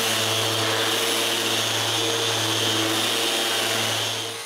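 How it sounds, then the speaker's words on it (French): A drum sander runs steadily on small mahogany and maple boxes, a loud continuous whirring hum with a constant low drone that holds even for several seconds, then tails off slightly at the end. "La sableuse à tambour fait une job extraordinaire."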